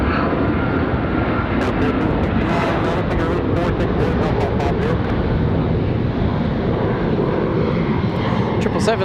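A heavy jet airliner departs Raleigh-Durham airport, its engines giving a broad, steady roar heard from a distance, with wind buffeting the microphone and a person speaking over it.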